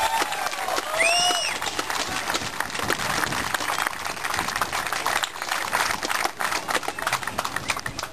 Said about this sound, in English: Give Michael Green a big round of applause.